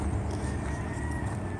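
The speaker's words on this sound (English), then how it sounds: "There's a chicken." A farm chicken clucks and crows among goats, heard over a constant low rumble of background noise.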